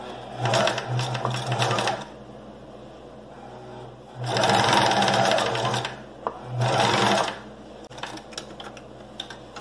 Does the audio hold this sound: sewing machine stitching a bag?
yes